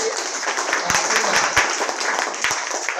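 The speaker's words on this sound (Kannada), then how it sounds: "ವೆರಿ ಗುಡ್ ಚಪ್ಪಾಳೆ ತಟ್ಟಿ" Students clap their hands in a classroom, a soft scattered patter of applause running steadily with a few sharper claps standing out.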